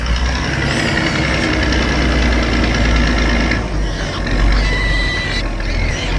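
A red tractor engine runs in a field, a loud, steady low rumble with a rattling, knocking texture that continues without pause throughout.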